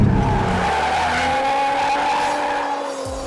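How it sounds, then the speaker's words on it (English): A 2014 Hyundai Genesis Coupe 3.8L drifting, with a loud sustained tire squeal over a steady engine drone, close and continuous before slowly easing off. "It's so much fun to drift this thing."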